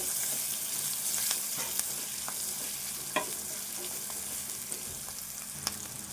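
Green chillies and onion frying in oil for an okra fry, a continuous close sizzle with a few sharp clicks of a spoon against the pan, no talking.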